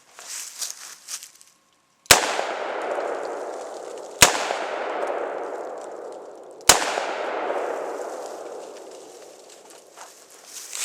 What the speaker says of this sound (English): I'm not expecting my shots with this LCR to be any better because I haven't practiced with it as much